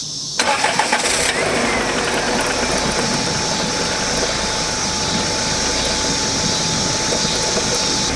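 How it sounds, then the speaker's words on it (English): A turbocharged Honda Civic engine with rod knock: it catches and then idles loud and close, holding a steady mechanical clatter with a rapid knocking beat throughout and no talk. "I think that's for sure rod knock."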